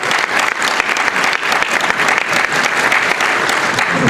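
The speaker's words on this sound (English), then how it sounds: "Big round of applause for Terry" An audience at a women's center charity gala breaks into loud, sustained applause, dense clapping from a large crowd that runs steadily for several seconds.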